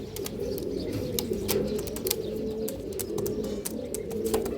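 Domestic pigeons coo in low, continuous rolling calls close by, with sharp clicks and taps scattered over the cooing.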